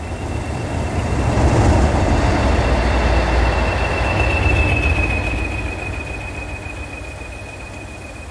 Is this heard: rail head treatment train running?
yes